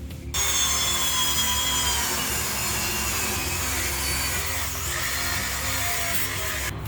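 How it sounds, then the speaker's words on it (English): A drill fitted with a metal wire brush scours oxidation and peeling paint off an aluminum surface, giving a continuous harsh, gritty scrubbing whir that holds steady for several seconds, close and moderately loud. "metal brush installed on the drill to remove all the oxidation, all the peeling paint"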